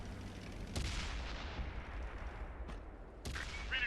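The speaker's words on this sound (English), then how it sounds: "thanks to that filthy little auto cannon that looks like a needle stuck on the front of the turret" Rapid autocannon bursts from a Luchs light tank in World of Tanks, sharp cracks followed by rumbling echoes, fairly faint and repeated a few times within seconds.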